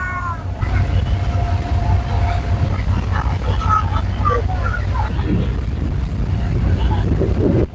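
An engine-powered passenger boat sets off on Hatirjheel lake in Dhaka, its low, steady motor drone running throughout beneath scattered voices and other nearby sounds.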